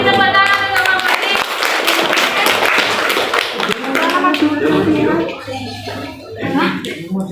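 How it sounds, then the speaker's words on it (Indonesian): Audience in a classroom or meeting hall applauding a presenter, a burst of dense clapping with overlapping voices and cheering throughout, fading slightly toward the end. "Mari tepuk tangan untuk Pak Budi."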